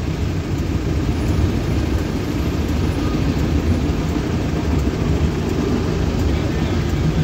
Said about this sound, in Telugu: చూస్తున్నారు కదా ట్రైన్ ఎట్లా పోతుందో